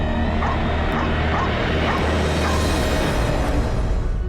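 Dogs bark at night, a run of repeated barks roughly every half second against a dense, noisy background.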